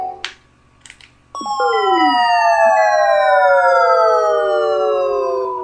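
A deep-fall sound effect from the EarthBound video game: a couple of short blips, then several bright, siren-like electronic tones sliding steadily downward in pitch, loud and continuous, with no talking.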